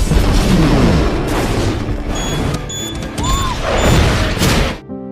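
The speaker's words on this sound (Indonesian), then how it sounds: "Tony juga sempat menyelamatkan Pepper sebelum bom yang berada di dekatnya itu meledak." A loud, rumbling bomb blast from the film Iron Man, with crashing debris and mechanical clatter, booming continuously before cutting off abruptly at the end.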